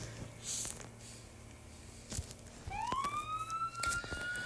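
A wailing police siren from the Roblox ER:LC game sweeps in partway through and climbs steadily in pitch, loud over a low background hum.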